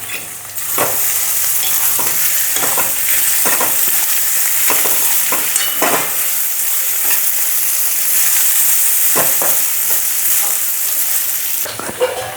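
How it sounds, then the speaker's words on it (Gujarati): Raw, finely chopped potatoes sizzle steadily in a hot pan for sabudana khichdi, with loud continuous frying hiss and intermittent scrapes of stirring, close up and without talk. "હું જો આ બટેકા નાખું છું અમે ઝીણા સુધાર્યા છે કાચા જ છે બાફેલા નથી"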